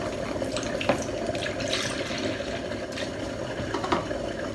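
Coconut milk poured steadily into a measuring container to 200 ml, a continuous close liquid stream with small splashy bursts throughout, no voices.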